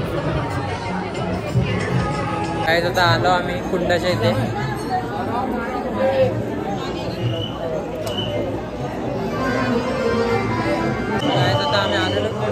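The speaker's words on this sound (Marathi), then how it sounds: "जाम गर्दी" Dense crowd chatter and babble at Khatu Shyam Kund, a temple water tank, a steady hubbub of many voices with nearby people talking over it throughout.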